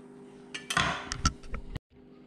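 Chopped raw onion stirred in a bowl, giving a close run of clinking, scraping utensil knocks against the bowl over about a second, then a brief stop.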